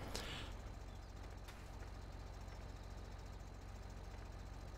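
A tractor engine idles in Farming Simulator 2013, a steady low mechanical rumble with even pulsing, running alone throughout after a faint brief click at the start.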